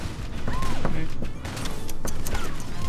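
Rapid gunfire in the online shooter MicroVolts, a dense burst of quick shots with sharp cracks over game sounds.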